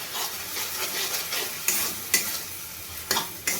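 Spice paste for an omelette curry stir-fried (koshano) in a pan: a continuous close sizzle with rhythmic scraping strokes and a few sharp spatula clacks against the metal.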